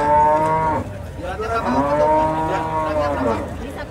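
Cattle at a cow contest in Lampung moo loudly and close by. Several long, drawn-out bellows overlap and slide in pitch one after another, with faint background voices.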